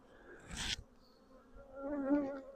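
Close buzzing of honey bees around hive boxes, a short burst of wingbeat drone followed by a rising, wavering hum, with no voices.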